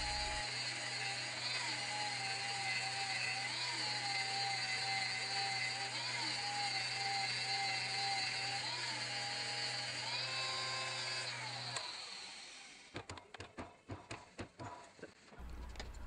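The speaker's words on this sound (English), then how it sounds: "We just chucked it up in the old south bend to give it an even pass between the fillets on all of the journals and seal surfaces using a handheld crank polisher." Handheld crank polisher working the journals of a 4G63 six-bolt crankshaft spun in a South Bend lathe: a steady, loud whirring motor drone with wavering pitch, then winding down into scattered knocks and clatter.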